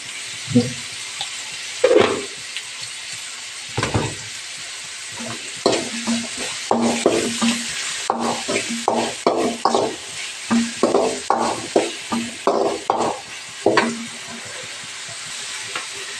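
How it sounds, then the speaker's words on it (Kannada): Onions fry in a pan while cabbage sambar is being made, with a steady sizzle under repeated close scraping and stirring strokes of a spoon against the pan. "ಈರುಳ್ಳಿ ಫ್ರೈ ಆಗಿದೆ"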